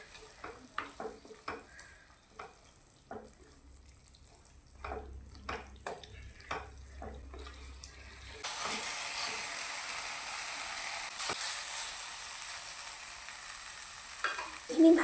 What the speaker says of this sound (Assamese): এতিয়া এইখিনি এবাৰ ভালদৰে লৰাই লৈছোঁ।